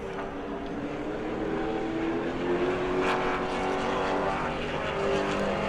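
A sportsman race car on a qualifying lap at New Smyrna Speedway, its engine droning steadily with a harmonic tone and rising slightly in loudness as it passes, with no talk.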